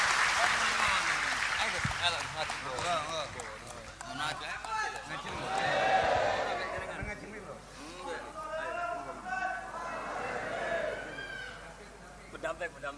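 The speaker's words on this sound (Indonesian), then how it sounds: "Tepuk tangan, enggak apa-apa," Audience clapping at an Indonesian Islamic religious gathering, a dense patter of applause under a voice, swelling and fading across the stretch.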